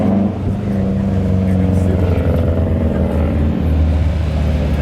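Several cars roll into an evening car meet one after another, a continuous low engine rumble with occasional revving, close and loud, under speech.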